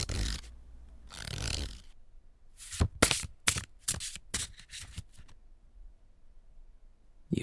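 A deck of Uno cards being shuffled close up, with a few soft bursts of riffling followed by a rapid run of sharp card snaps and flicks, then quiet.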